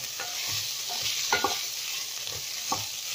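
Chicken sautéing in a pan for sotanghon guisado, a steady hissing sizzle broken by several spatula scrapes and knocks, close and fairly loud, with no voices.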